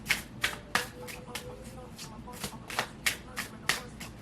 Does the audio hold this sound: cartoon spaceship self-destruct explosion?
no